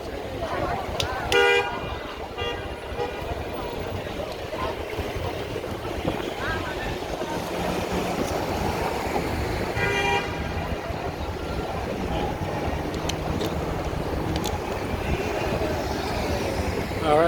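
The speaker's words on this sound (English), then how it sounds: "Lots of traffic." Busy downtown Chicago street traffic at the corner of East Illinois Street and Michigan Avenue, with car horns honking repeatedly through a steady roar of engines and city noise while people talk nearby.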